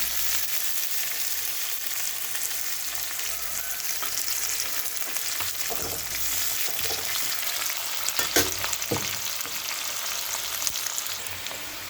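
Onions sizzle steadily in hot oil in a pan, a dense continuous crackle with a few louder stirring scrapes near the end, and no voices.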